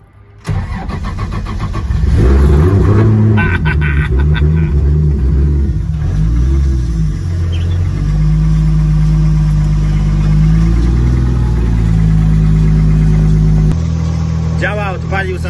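Nissan car engine cranks and fires on the first try, then settles into a steady, loud low idle rumble close by, with a brief voice and rustle near the end.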